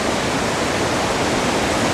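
The Torrens River running high at its junction with Lick Creek, a loud, continuous broadband rush of flowing water with no breaks and no voices.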